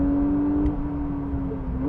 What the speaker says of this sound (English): you start to hear that engine noise